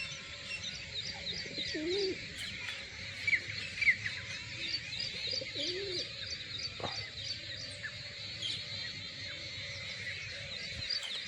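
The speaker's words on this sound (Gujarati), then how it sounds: "કબૂતર આવી ગઈ જો અમારા ઘર પર." Pigeons coo repeatedly on a house roof, soft low rounded calls recurring through the clip, with small birds chirping brightly in the background and no talking.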